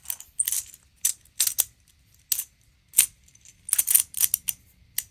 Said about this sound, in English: So this set comes with a carrying bag and a ton of magnetic blocks, and I love the way these sound.